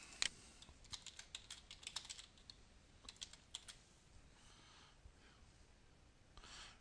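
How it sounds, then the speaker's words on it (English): Soft, close clicks of a computer keyboard as a username and password are typed in, a quick irregular run of keystrokes that slows and thins out toward the end, with faint breathing in the background. "We enter our username and password here"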